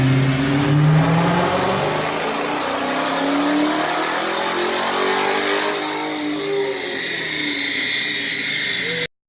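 A real car revving hard on a dyno, its loud engine note rising and falling continuously through the clip, close and alone with no talk.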